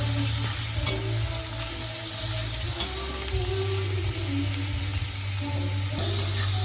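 Food with a little pork being stirred in a hot cooking pan, an even sizzle running throughout under slow scraping strokes of a spoon, close and fairly quiet.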